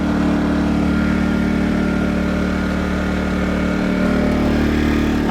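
An Atima AY2000i inverter generator runs at high idle with its fuel shut off, giving a constant, fairly loud engine drone that holds an even pitch throughout with no talking.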